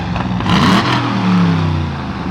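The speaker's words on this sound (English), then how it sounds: "Even at idle, it's got like a nice little bit of a cammed idle" A 1964 Pontiac GTO idles with a lumpy, loping cammed exhaust rumble, steady and close, a slight rev lifting midway.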